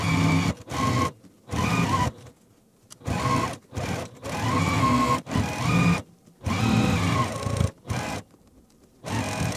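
Domestic sewing machine stitching a quilt block seam, running in several bursts of steady whirring separated by short pauses, close and fairly loud with no talk.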